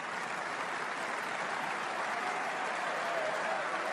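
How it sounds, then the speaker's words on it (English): Snooker crowd at the Masters applauding steadily and loudly throughout, a dense sustained wash of clapping with no break. "And the crowd are loving it."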